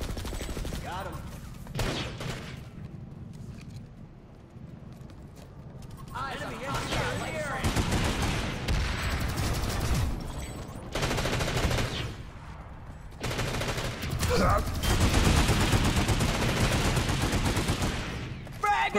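Repeated bursts of automatic gunfire crackle through a video game firefight, loud rattling volleys in uneven clusters with brief lulls between, while players talk excitedly over the shooting.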